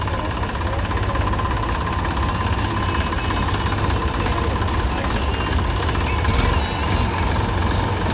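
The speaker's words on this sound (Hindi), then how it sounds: "ये 254 डायना ट्रैक आप देख पा रहे हैं, 50 हॉर्स पावर का ट्रैक्टर जो कि लोडर के साथ में फिटमेंट है" A Massey Ferguson 254 Dynatrack 50 hp tractor fitted with a loader idles at a tractor launch event, its engine giving a loud, steady, continuous rumble throughout with no break.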